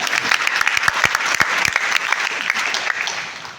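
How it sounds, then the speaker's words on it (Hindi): Loud, sustained applause from a seminar audience welcoming newcomers, dense clapping with a few sharp standout claps, continuing steadily without pause. "तो हमारे नए लोगों के लिए एक जोरदार तालियां होनी चाहिए"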